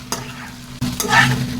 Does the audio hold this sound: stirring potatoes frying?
yes